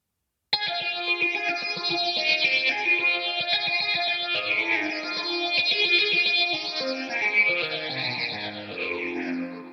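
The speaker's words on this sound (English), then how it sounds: "you can get really crazy if I put something on here like dreamy texture" Sustained electric guitar chords through GarageBand iOS's dreamy texture amp swell with heavy chorus and distortion, shimmering and washy, ringing out alone for several seconds before slowly fading.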